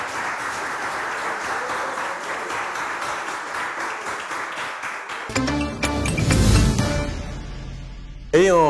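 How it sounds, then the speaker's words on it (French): Game show studio audience applauding the contestants, steady clapping for about five seconds, then a burst of jingle-like game sounds and a brief loud swell at the end. "Est-ce qu'on peut applaudir pour tous mes candidats?"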